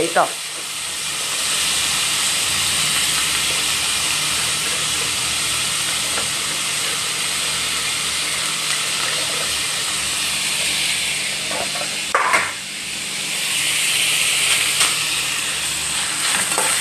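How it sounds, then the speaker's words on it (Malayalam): Coconut pieces frying in ghee for payasam give off a loud, steady sizzling hiss that runs unbroken through the whole stretch, with a brief dip and swell near the end and no voices. "ഇപ്പം നമുക്ക് തേങ്ങാക്കൊത്ത് ഇട്ട് കൊടുക്കാം ഇനി വറുത്തിട്ടാൽ മതി"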